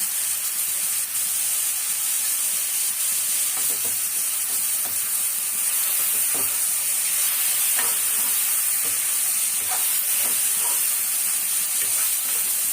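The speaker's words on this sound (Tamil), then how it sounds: "தக்காளி வெங்காயமாக ஒரு 2 நிமிஷம் நல்லா வதங்கணும்." Onions and tomatoes sauté in a pan for tomato gravy, giving a steady, close sizzle across the whole stretch with occasional soft stirring clicks and scrapes.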